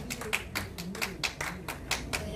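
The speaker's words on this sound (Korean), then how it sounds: "자, 박수 한번 주세요." Sparse audience clapping greets a singer on stage, a handful of separate claps falling in an uneven rhythm, fairly faint over low background murmur.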